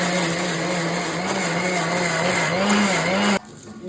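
A mixer grinder whirs loudly and steadily while grinding bitter gourd with salt and turmeric, its motor pitch wavering slightly before it cuts off abruptly near the end.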